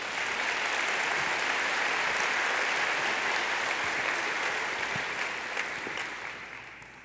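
Applause at the Long Beach State of the City address, a large crowd clapping in a dense, sustained wash that slowly tapers off.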